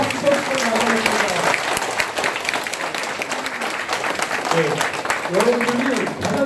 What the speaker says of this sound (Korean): 큰 박수 쳐주시면 감사하겠습니다.